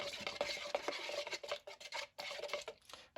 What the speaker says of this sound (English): Just want to stir all of this.